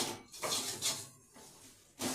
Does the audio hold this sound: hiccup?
no